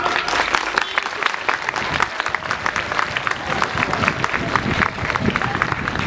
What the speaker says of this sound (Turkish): Kendinizi kuvvetli bir alkışlar mısınız?